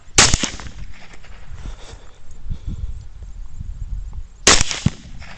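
Gunshots during a hog hunt: two sharp close rifle cracks, one at the start and another near the end, with quieter outdoor rustling and movement between them.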